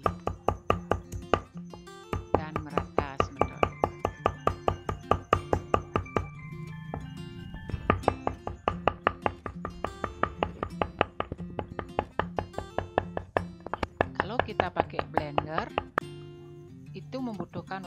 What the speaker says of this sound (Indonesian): Nah, ini dicampur cabai, bawang merah, bawang putih. Setelah itu ditetek lagi supaya lebih halus lagi dan merata semeton.